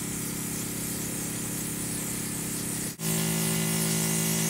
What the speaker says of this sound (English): And just spray that all over your face